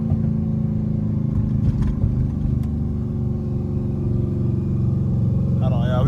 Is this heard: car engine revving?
yes